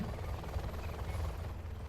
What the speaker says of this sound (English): This is 3-star bunker helicopter.